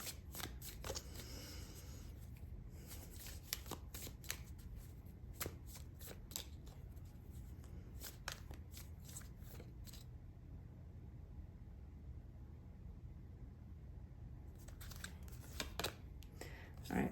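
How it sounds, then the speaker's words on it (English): Tarot cards are shuffled and drawn in a quiet room, giving a long run of close, crisp riffling and flicking bursts with a silent gap in the middle, then a few more flicks. No one speaks. "got a couple more cards I want to get out on the table"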